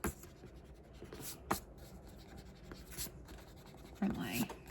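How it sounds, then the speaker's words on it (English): A rubber eraser scrubs over pencil marks on journal paper, giving soft, quiet rubbing and scratching strokes up close, with a couple of slightly louder bursts near the end. "now to grab my eraser and erase some of this stuff here"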